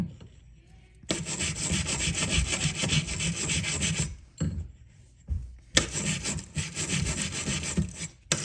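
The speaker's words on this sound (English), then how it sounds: "cleaning this rust off of this thing" A metal object is scrubbed to remove rust in two long bursts of rough, rhythmic back-and-forth scraping close by, separated by a short pause and a few quieter strokes.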